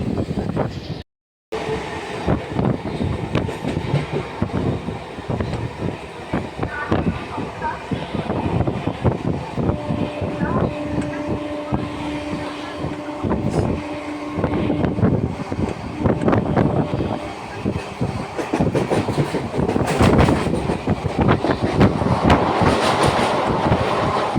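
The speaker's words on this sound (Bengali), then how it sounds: "আবার লোকাল ট্রেনে উঠেও গেছি" A local commuter train rolls along its rails with a steady, loud rumble and rhythmic clickety-clack of the wagons, heard from inside the carriage with continuous wind and rattle throughout.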